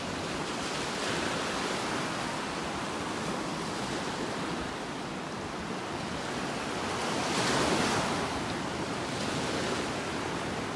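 Ocean surf rolls onto a beach in North Naples, Florida, on a morning walk, a continuous broad wash of breaking waves mixed with wind that swells louder toward the end.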